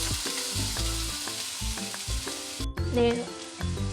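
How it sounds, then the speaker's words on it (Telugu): Thinly sliced medium onions fry toward brown in hot oil, a loud, continuous sizzle with background music playing over it. "ఒక మీడియం సైజు ఆనియన్స్ అండి వేసుకొని బాగా బ్రౌన్ కలర్ వచ్చేదాకా వేయించుకోవాలి"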